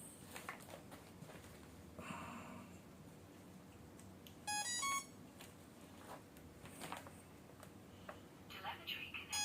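A flight controller in an RC FPV plane powers up and emits a short burst of rising electronic startup beeps midway through, with faint ticks and room noise around it and a voice nearby.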